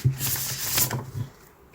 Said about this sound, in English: I'm just going to give it a quick shuffle.